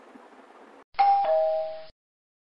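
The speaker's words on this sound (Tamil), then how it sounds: "காலிங் பெல் அடிச்சது" After a faint low hiss, an electronic doorbell rings once, a clear two-tone chime that sounds close and then stops abruptly.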